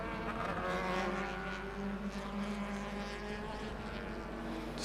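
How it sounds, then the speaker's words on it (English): BMW E36 race car running on the track at the SKOPE Classic 2023 race, a continuous engine drone with a steady tonal hum, moderately distant and even throughout, no speech. "Warren Good in the E36 BMW."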